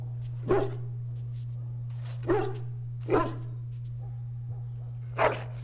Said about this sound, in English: Freaking dog, I swear.